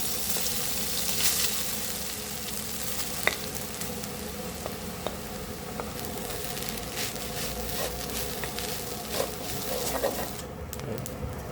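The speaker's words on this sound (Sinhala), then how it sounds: "අපිට ඊළඟට දාන්න සම්බෝල් ටිකක් පොඩක් ටෙම්පරාදු කරගන්න" Coconut sambol tempers in hot oil, giving a steady, close frying sizzle with scattered small pops and stirring clicks throughout.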